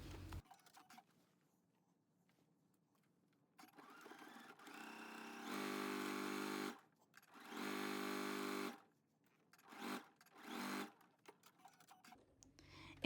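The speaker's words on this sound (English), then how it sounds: "At the sewing machine, we will sew this at 5/8 of an inch seam allowance" A sewing machine stitches a denim skirt seam in two bursts of steady fast whirring, then a couple of shorter spurts, separated by quiet pauses with small handling clicks.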